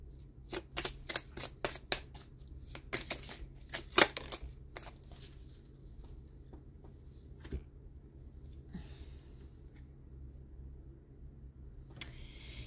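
Oracle color cards being shuffled by hand in a quick series of crisp, flicking riffles, close and fairly quiet, then slower soft card handling toward the end.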